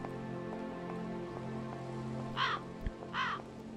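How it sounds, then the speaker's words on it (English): Two crow caws ring out a short while apart, amid a steady background of ambient hum and faint patter, from the adventure video game Syberia. "Crow's still present over here."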